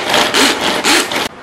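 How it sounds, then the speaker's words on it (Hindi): Electric kitchen chopper grinding coriander and onion, heard as three loud, close whirring bursts in quick succession before cutting off abruptly. "इसको हम लोग ना चॉपर में डाल के अच्छे से ग्राइंड करके लेंगे, एकदम हम लोग को फाइन चाहिए।"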